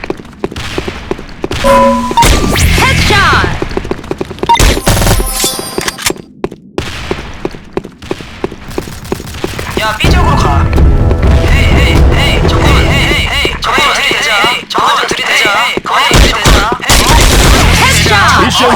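Gunfire from the Korean online shooter Sudden Attack, with bursts of shots and thuds across the clip, loud and dense near the end, mixed with game effects.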